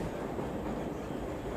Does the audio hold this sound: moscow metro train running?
yes